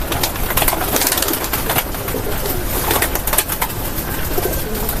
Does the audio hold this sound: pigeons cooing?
yes